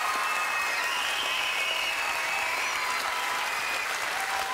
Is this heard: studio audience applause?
yes